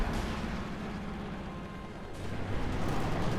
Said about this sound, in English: And we got the 17-pounder gun firing away as well